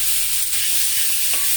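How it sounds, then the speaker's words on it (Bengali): Potatoes stirred into hot oil with dried red chilies and five-spice seeds hiss in a loud, continuous sizzle close by, with a faint scrape of stirring near the end. "আলুগুলো দিয়ে একটু নাড়াবো"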